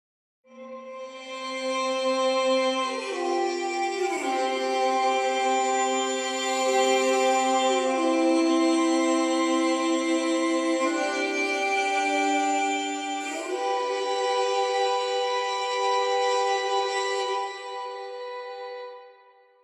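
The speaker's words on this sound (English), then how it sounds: "I have a couple of sordino legatos just doing a harmony with the expressive legato." Muted sordino string legatos play a slow harmony alongside an expressive legato line, a sustained chordal string texture that shifts pitch every few seconds, steady and fairly loud throughout without voices.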